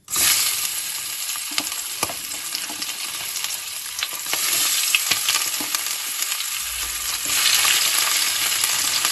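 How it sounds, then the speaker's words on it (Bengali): Prawns fry briefly in hot oil for a Bengali chingri malai curry, producing a loud, continuous close-up sizzle with occasional crackles and a few soft stirring knocks, and no speech. "চিংড়ি মাছ খুব বেশি একটা ভাজতে হয় না, এপিট ওপিট করে সামান্য একটু ভেজে তুলে নিতে হয়"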